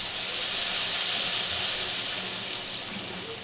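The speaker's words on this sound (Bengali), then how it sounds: "এবার আমি এতে জল ঢেলে দিলাম।" Water poured into a hot pan of frying Bengali fish curry (bhetki macher jhal), giving a loud, steady sizzling hiss that fills the whole moment without pause, with no talk over it.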